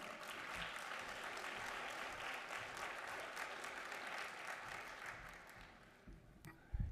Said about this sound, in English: give a round of applause to Corey Reeder